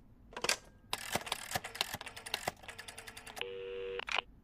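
Phone dialing in the Sonic Boom cartoon: a rapid run of clicky key presses, then a steady dial tone, ending in a final sharp click, all close and clear with no talking.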